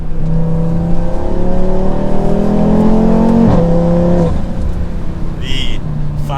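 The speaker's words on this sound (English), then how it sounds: "The 5-cylinder sounds so unique. It pulls hard." A 2024 Audi RS3 with its five-cylinder engine revs up through the gears, loud and close, with rising harmonic tones, a brief shift break near the middle, then pulling hard again.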